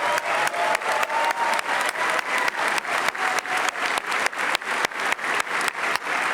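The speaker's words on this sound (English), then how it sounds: "Let's give her a bigger round of applause." A large audience at a Liberal party convention in Winnipeg applauds, a dense, sustained wash of clapping with a steady rhythmic pulse throughout.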